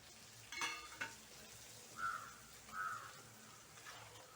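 Carrots stirred into a pan of sizzling palak rava pasta, giving a soft, close frying hiss with a few quiet stirring scrapes and clinks, no talk.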